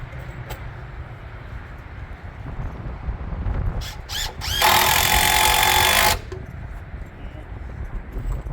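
A power drill drives screws into wooden wall framing for a tiny house or shed, with one loud sustained whirring burst of about a second and a half. Short rattling buzzes come just before it, over low background rumble and talk.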